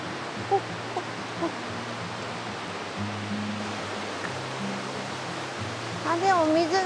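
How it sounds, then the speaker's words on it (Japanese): A waterfall on a nature hike on the Côte d'Azur in southern France gives off a steady, broad rush of falling water. Low tonal sounds run beneath it, and voices join near the end. "あ、でも水が、滝が近くなってきたね。"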